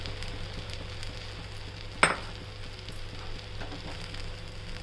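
Paneer pieces fry in a pan with a steady, even sizzle that runs throughout, broken by one short sharp clink partway in.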